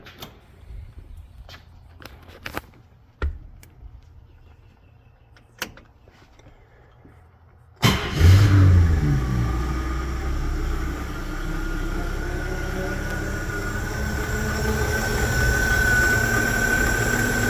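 A 1952 Chevrolet four-door sedan's engine is started: quiet clunks and shuffling, then at once the motor catches and settles into a loud, steady close-up running drone.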